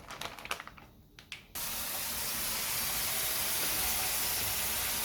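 A kitchen tap opens suddenly after some light clattering and then runs steadily, a broad, continuous rush of cold water for rinsing beef stomach, filling the rest of the clip.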